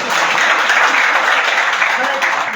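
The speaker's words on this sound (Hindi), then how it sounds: "ताली बजा दो एक बार।" A crowd applauds at an outdoor public gathering for a Holi procession, a dense, loud, continuous wash of clapping from many hands that holds steady from start to finish.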